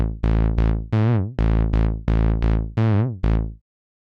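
A Zebra 2 synth bass patch modeled on the bass in a track plays eight punchy, plucked notes in a rhythmic sequence, each decaying quickly, some with a wobbling filter sweep, loud and alone before stopping.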